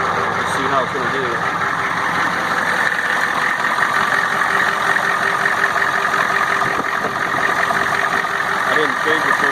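An International truck's engine runs steadily after a first start following six years sitting in the woods, a continuous loud idle with a low rumble held throughout, and a voice talks over it.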